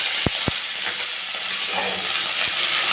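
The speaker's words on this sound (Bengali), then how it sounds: "তেলটা গরম হয়ে গেছে, এইবার আমি এর মধ্যে আলুটা দিয়ে দিলাম।" Potatoes fry in hot mustard oil for piyaj koli alu bhaja. Two sharp clinks come at the start, followed by a continuous, close-up sizzling hiss with faint stirring and no voices.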